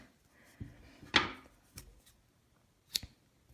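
A few sharp snips and small clicks as scissors cut yarn, spaced apart in a quiet room, close by, with near silence between them.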